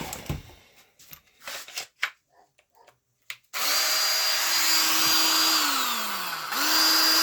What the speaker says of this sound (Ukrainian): Зараз спробуємо на шуріку.